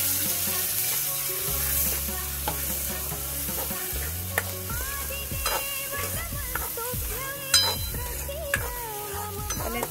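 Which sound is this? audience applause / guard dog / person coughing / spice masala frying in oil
spice masala frying in oil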